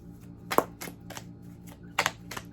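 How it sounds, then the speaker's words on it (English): Tarot cards being shuffled by hand in an irregular way, giving a sparse run of close, crisp clicks and soft riffling taps in a quiet room. "I'm sitting here shuffling the cards all weirdly"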